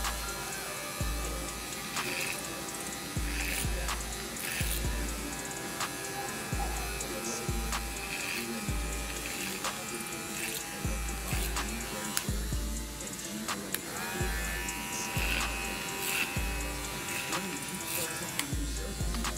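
Electric hair clippers cutting hair in a barber setting, a steady close buzzing hum running throughout with a person talking over it.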